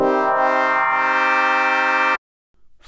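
A bright, dense Pigments synthesizer tone using phase modulation, with a pulsing low wobble, held steadily for about two seconds and then stopping dead, leaving near silence and a faint rustle.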